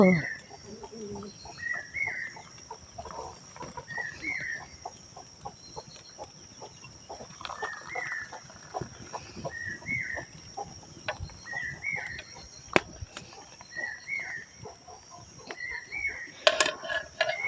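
Chickens cluck repeatedly at close range over a rhythmic ticking background, with scattered short calls and a brief louder flutter near the end.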